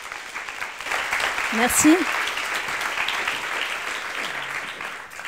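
Moderate, steady audience applause at an evening talk, heard at middling distance, with a brief spoken word from a voice partway through.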